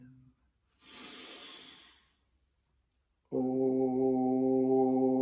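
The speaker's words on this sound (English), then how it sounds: "Breathing in." A deep breath in during breath meditation, a single soft, airy inhalation of about a second, followed by silence and then a sustained sung tone.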